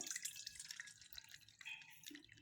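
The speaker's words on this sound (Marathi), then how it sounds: "आता यावरचं पाणी काढून घ्यायचं आहे" Water draining off soaked jowar grains, faint close drips and trickles in quick irregular patter with brief splashes, no voices.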